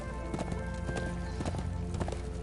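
Phantom horse hooves in the video game Darksiders 2, a steady clip-clop of hoofbeats at a trotting rhythm, several evenly spaced strikes over a constant droning game background, with no talk.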